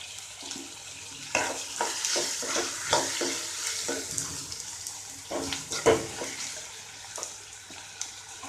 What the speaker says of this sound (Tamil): அடுத்து தக்காளி போட்டுடலாம்.